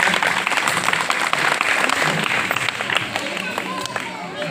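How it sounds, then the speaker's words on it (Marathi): A school audience bursts into dense, steady applause for a teacher, with loud clapping sustained evenly throughout. "नैताम सरांसाठी जोरात टाळ्या झाल्या पाहिजेत।"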